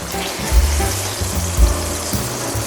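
Egg-dipped bread slices for French toast sizzle in a hot pan, a loud steady frying hiss with a couple of low bumps as the bread settles, no talking.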